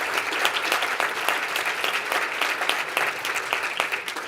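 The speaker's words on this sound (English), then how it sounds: "Round of applause" Applause from attendees at an interior design association's annual meeting, dense even clapping that fills the room and holds steady throughout.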